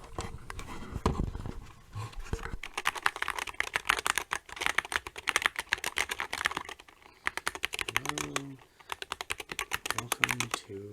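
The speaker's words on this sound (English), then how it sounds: "we're going to listen to its key presses" Rapid clacking of SteelSeries Apex Pro TKL mechanical keyboard keys, close up, in fast irregular bursts with a short pause midway.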